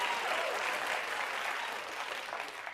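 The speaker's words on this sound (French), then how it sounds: "acclamations, sifflements" A television studio audience bursts into sustained applause with cheers and whistles, a thick continuous wall of clapping and crowd noise that eases slightly toward the end.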